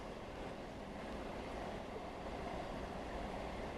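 Class 166 Networker diesel multiple unit running in Train Sim World, a steady low rumbling drone of the train in motion, continuous and even with no talk over it.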